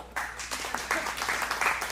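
Short burst of audience clapping during a sermon reading of the Lazarus story in a church, a steady patter of claps at moderate loudness.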